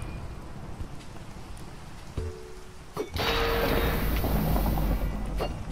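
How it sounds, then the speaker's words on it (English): Rain and thunder in the Minecraft video game: steady rain patter, then a sharp thunder crack that swells into loud, sustained rumbling rain, no talking. "Oh, it's thunder and raining."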